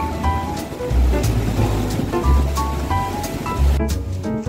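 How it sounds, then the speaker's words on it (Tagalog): Ocean waves wash onto a tropical beach in a steady, broad surging roar, close and continuous, with faint tonal chatter or music in the background and no talk. "ang sarap pakinggan ng tunog ng alon dito"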